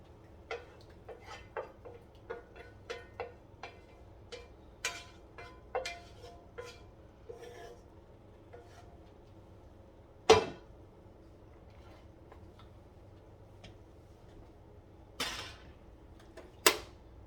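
Chicken pieces being stirred into a cheesy pantry chicken casserole in a big pot, a series of light clinking scrapes of a utensil against the pot with a couple of louder knocks.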